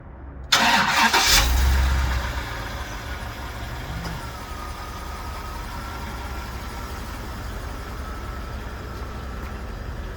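A truck with 266,000 miles cranks briefly and fires up, a short loud starter whir followed by the engine catching and settling into a steady, moderately loud idle hum.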